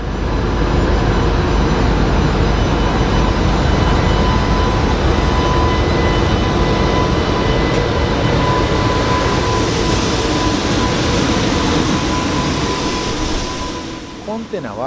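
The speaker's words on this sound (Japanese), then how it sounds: "編成を終えた EH800 初号機に牽引されて、長い貨物列車が出発します。" A long freight train hauled by the first EH800 electric locomotive pulls away, a loud, steady rumble of rolling wheels and rail noise with a faint tonal hum throughout, easing slightly near the end.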